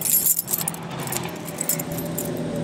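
Keys for a 2000 Buick Century jingling, a faint metallic rattle in short clinks over a steady low background hum.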